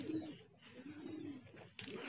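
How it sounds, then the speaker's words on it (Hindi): Several pigeons sitting together coo softly in low, rolling calls, with faint rain and light background noise around them. "पंद्रह कबूतर बैठे हुए हैं"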